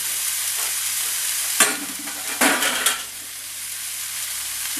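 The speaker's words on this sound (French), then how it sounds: "il faut juste pas faire cuire les légumes, il faut juste mélanger" Vegetables stirred in a hot frying pan: a steady soft sizzle runs throughout, broken by a few louder scraping stir strokes, close up with no talking.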